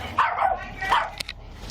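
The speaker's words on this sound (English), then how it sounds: "Okay, so a friendly dog." A friendly dog barks twice, close and loud, during a police call-out at a house, followed by a short sharp sound amid outdoor background noise.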